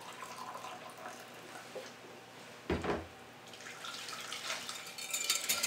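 Hot water pours into a bowl of lime jello mix, a faint trickle with a brief louder splash, then a steadier stream of liquid filling the bowl.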